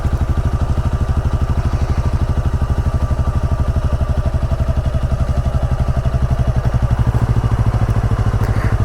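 Honda Rebel 300 motorcycle engine running steadily close by in first gear, a rapid even low thumping pulse that rises slightly toward the end as it creeps forward under clutch control.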